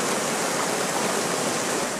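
A raging mountain torrent where a dipper hunts insect larvae rushes as a steady, dense, full-bodied roar, close and constant throughout with no other sounds.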